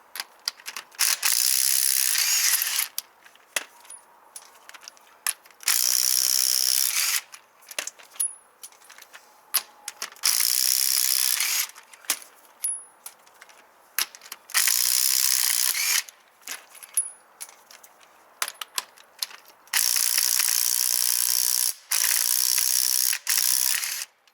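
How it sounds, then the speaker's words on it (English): Lug nuts are taken off a car wheel with a power tool, heard as several loud, harsh mechanical bursts of a few seconds each, separated by short pauses and lighter clicks, up close and with no talking. "then I take the lug nuts off"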